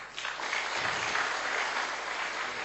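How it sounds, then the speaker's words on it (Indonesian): Audience applause at a business seminar, a steady, fairly distant wash of many hands clapping that begins after a brief pause and carries on evenly to the end. "Tepuk tangan Pak Yatmin."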